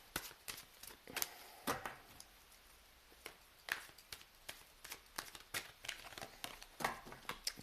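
Tarot cards being shuffled and drawn at close range, a run of soft papery riffles and sharp flicks in uneven bursts, fairly quiet with no one speaking.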